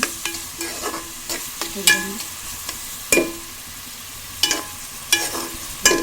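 A spoon repeatedly stirs and scrapes punugulu fritters browning in hot oil in a pan. Sharp, irregular clinks and scrapes punctuate a soft, steady sizzle, close and without talk.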